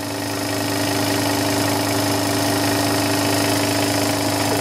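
A Kromrey generator runs steadily and speeds up slightly, a loud, continuous mechanical drone with a steady hum, close by and without talk.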